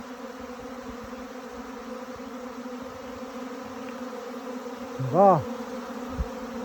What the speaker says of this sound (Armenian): պարսը պարսը իրա ոտով եկա մտավ փեթակը